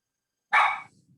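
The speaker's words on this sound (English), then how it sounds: "There's a dog getting very upset about this conversation." A single loud, close dog bark cuts through an otherwise quiet room during a township committee meeting.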